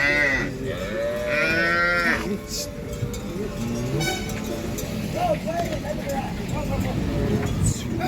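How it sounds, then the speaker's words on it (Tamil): Herd of cows and calves mooing repeatedly as they walk in a line along a bypass road near Thiyagadurgam in Kallakurichi district, with steady traffic rumble and someone talking throughout. "எத்தனை மாடுகள் கன்றுக்குட்டிகள் வரிசையாக போய்கொண்டுள்ளது பாருங்கள்"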